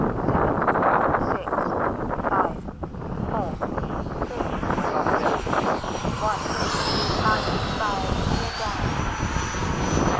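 A Freewing 90mm F-22 RC jet roars past in a formation flight, its loud ducted-fan whine swelling and shifting over wind buffeting the microphone.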